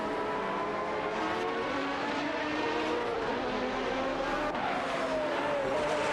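An Aston Martin DBR9 and a Lamborghini Murcielago RGT race in a video game, engines droning continuously with shifting pitch as cars pass and rev, a steady layered motor roar throughout.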